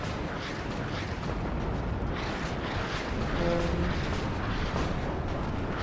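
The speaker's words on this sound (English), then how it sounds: "Artillery coming in." Artillery fire in the Warno war game, a dense, continuous rumbling barrage of distant booms and blasts that swells slightly midway and rolls on without pause.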